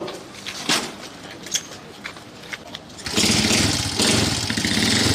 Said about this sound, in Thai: ดูว่าเสียงดังขนาดไหนนะครับ นี่ยังไม่ได้เร่งเครื่องนะครับ